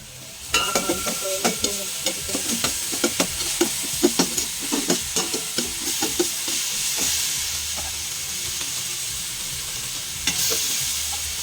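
Chicken liver sizzling and frying in a pan over medium heat while a utensil scrapes and stirs in quick repeated strokes, then the sizzle settles into a steady hiss.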